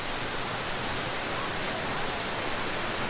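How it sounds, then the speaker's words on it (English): A tall waterfall along the Road to Hana on Maui pours in a steady, dense broadband rush that stays even and unbroken throughout, with no voices over it. "we made it to the waterfall"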